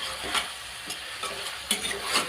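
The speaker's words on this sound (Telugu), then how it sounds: "చికెను ఆయిల్లో బాగా ఫ్రై కావాలండి." Chicken pieces frying in oil for a village-style chicken curry, stirred with a spoon, giving a steady close sizzle broken by scraping stir strokes about every half second, with no talk.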